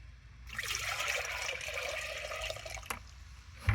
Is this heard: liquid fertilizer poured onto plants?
yes